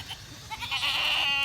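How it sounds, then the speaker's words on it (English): A small herd of four goats on a farm bleats, with a clear, rising, wavering cry building up close and holding strongly near the end. "So these are the 4 goats up front."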